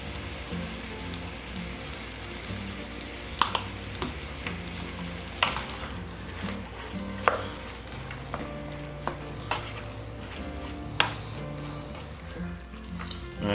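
Chili meat cooking in a pot sizzles steadily and softly up close, with occasional sharp clicks and scrapes from stirring and seasoning, and a faint voice is heard underneath.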